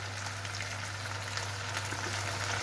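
Steady sizzling and crackling of onions frying in a pan, a continuous hiss with a low hum underneath and no talking.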